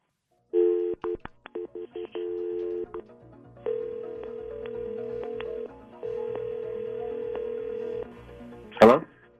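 Phone call placed from a handset: a quick run of keypad dialing tones, then long steady ringback tones repeating with pauses, ending in a short loud burst as the line connects; no talk over it.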